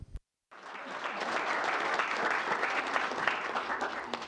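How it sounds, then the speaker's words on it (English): A room full of people aboard the space station broadcast applauds, sustained dense clapping that begins after a short pause and continues steadily to the end, moderately loud. "as you can hear, there's a lot of applause in the room"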